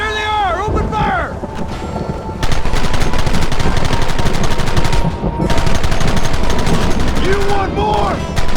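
Heavy gunfire in the Western video game Red Dead Redemption: dense, continuous bursts of rapid shots from several guns, loud and close, with brief shouted voices at the start and end.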